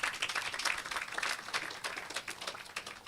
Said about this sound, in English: I think that the USF deserves a big round of applause